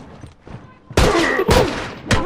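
A rifle fires in the video game The Last of Us as three loud, sharp cracks spaced about half a second apart, each with a brief ringing tail, following some quieter thumps.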